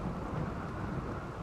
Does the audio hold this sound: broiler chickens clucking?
no